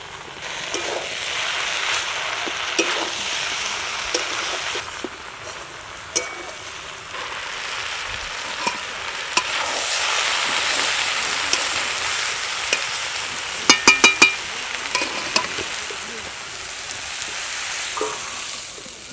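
Malabar spinach curry cooking with mustard oil added on top, a continuous soft sizzle and crackle with occasional sharp clicks and utensil taps, no voices.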